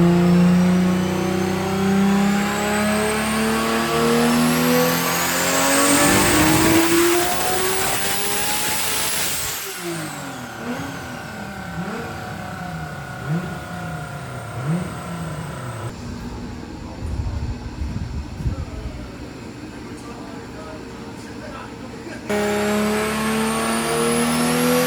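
A Nissan RB26 engine, tuned with hard-lined wastegate plumbing, revs hard on a dyno: loud rising wails climb and fall, then sharp throttle blips and a drop to a rough idle before another full-throttle pull.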